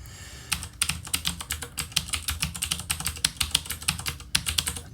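Fast typing on a computer keyboard, a dense run of crisp key clicks at an even rapid pace, close by and alone with no voice.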